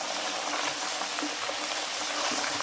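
Oil simmers with turmeric in a pan for a naga chili and garlic pickle, producing a steady, dense bubbling hiss with faint crackles throughout and no talking.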